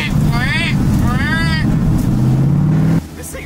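A supercharged, slammed 1965 Ford Mustang engine drones loud and close, with rising whining tones from the blower swelling over the roar before the sound drops off abruptly near the end.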